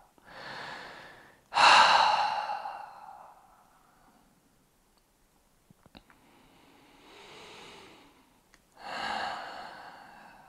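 Slow, relaxed breaths during a calm meditation, with a strong audible exhale early on followed by softer, unhurried breaths spaced several seconds apart, close and alone without talk.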